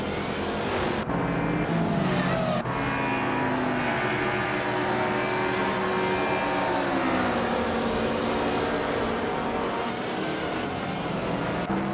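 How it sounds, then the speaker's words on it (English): Race cars in an AI-driven car racing video game at Auto Club Speedway, a dense, steady roar of several engines running together at speed, loud and unbroken throughout with no talking. "Hope you're ready for some exciting AI car races."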